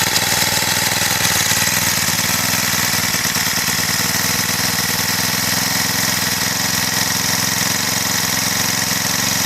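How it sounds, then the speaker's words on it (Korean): A Cretec UDT four-stroke brush cutter engine idles steadily and loudly up close just after starting, a constant rattling drone that never changes pace. "약 1분 정도 공회전 상태로 두십시오."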